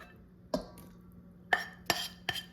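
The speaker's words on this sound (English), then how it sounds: "take some breakfast sausage, use a slotted spoon, and just mix the sausage in" A slotted spoon stirs breakfast sausage into a casserole mixture in a dish, producing four sharp, separate clinks and scrapes, close and fairly quiet.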